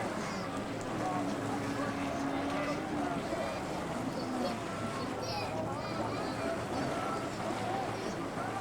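Personal watercraft race on water at a 1993 Canadian Hydrocross event, with boat engines droning steadily throughout under wind noise and a continuous announcer-style voice over the course.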